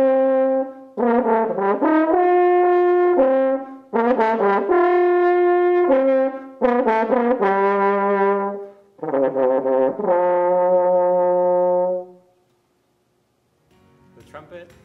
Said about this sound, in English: Here is the sound of the horn.